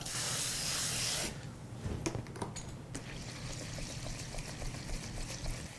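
Water pours and splashes over Japanese rice being washed, a strong steady gush for about a second, then softer swishing, trickling and light clatter as the grains are rinsed.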